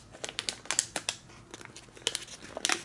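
Origami paper is creased into a valley fold, giving a string of close, crisp crinkles and soft taps, busy at first, pausing midway, then picking up again.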